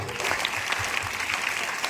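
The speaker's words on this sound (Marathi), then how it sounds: "खऱ्या अर्थानं काम करणाऱ्या मंत्र्यांसाठी आपण कडकड टाळ्या वाजवू" A school audience claps for ministers, a dense burst of steady applause from many hands filling the hall without pause.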